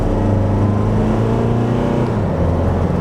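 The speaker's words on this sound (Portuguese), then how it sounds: "vamos lá fazer agora a nossa largadinha estolada aqui com a S10" A Chevrolet S10 pickup accelerates hard from a standstill during a 0–100 run, its engine a loud, steady low drone that holds strong throughout, heard from inside the cabin with no talk.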